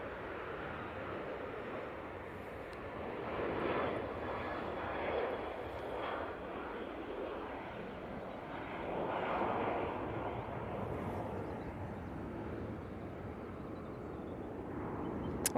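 Ryanair jet airliner departing Manchester Airport for Prague, its engines a steady broad roar with swelling surges, heard from a distance with some wind buffeting.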